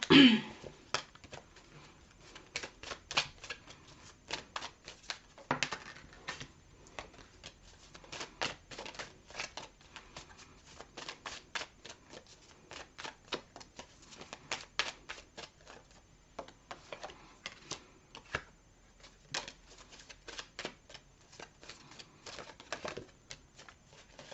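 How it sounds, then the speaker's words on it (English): Tarot cards being shuffled during a singles reading, giving a long run of soft, quick papery riffles and taps at close range, steady and fairly quiet with no talking. "I'm going to pull some cards for this one too."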